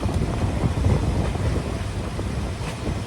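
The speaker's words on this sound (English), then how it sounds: "just to show you like the sound of the wind" Wind blows hard around a boat anchored at night in a small protected basin, a constant loud rumbling roar with gusty buffeting close to the microphone.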